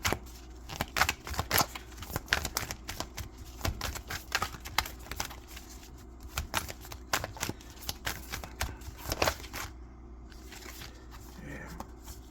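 Tarot cards being shuffled and handled at close range, a run of crisp riffling and flicking bursts with soft taps, fairly quiet throughout and trailing off near the end.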